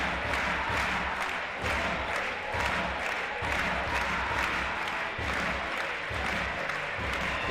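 A home crowd at a women's EuroLeague basketball game between Perfumerias Avenida and Spar Girona claps and cheers in rhythmic waves, loud and sustained, with a commentator speaking faintly underneath.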